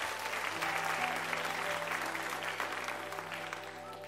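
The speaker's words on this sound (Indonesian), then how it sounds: "Kasih tepuk tangan buat Tuhan kita." A church congregation at an Easter service claps in praise, a sustained, even wash of applause at moderate distance, with a faint organ or keyboard tone humming underneath.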